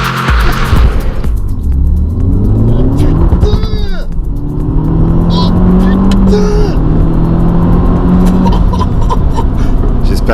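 Peugeot 308 R Hybrid, a hybrid performance car built on a 308 GTi base, launching hard in launch mode: a loud engine roaring and climbing through rising revs with gear changes, heard up close from inside, a voice exclaiming over it.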